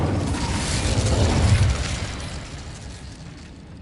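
Whooshing, roaring burst of the Incendio fire spell in a Harry Potter game, a loud noisy blast that swells then fades over a few seconds.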